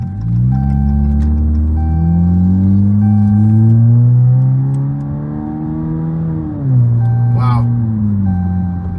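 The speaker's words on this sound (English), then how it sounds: "Not even flooring it at 40 miles an hour with barely putting any foot down." A 2015 Chrysler 200 with a 2.4L engine and a throttle controller pulls up through the gears around 40 mph, its engine drone rising steadily, dipping at a shift, then climbing again, with a voice speaking over it.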